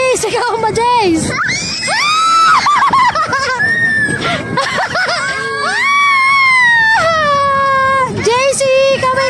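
Children screaming loudly and continuously on an amusement ride at MOA seaside, high piercing shrieks rising and falling close up, with excited voices calling out between screams.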